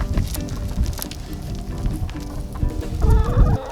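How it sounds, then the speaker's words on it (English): Full-grown backyard chickens cluck and squawk close by in a busy, overlapping chorus, with a louder burst of calls near the end. "Meet our full-grown chickens."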